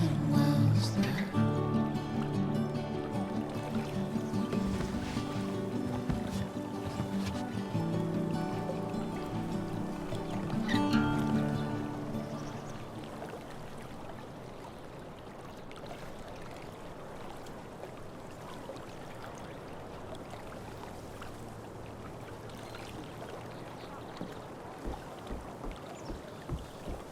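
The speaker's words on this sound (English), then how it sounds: "If not for the paddling, kayaking would be super relaxing." Kayak paddling through water in the video game Life is Strange: True Colors, a steady wash of splashing strokes heard alone after background music fades out partway through.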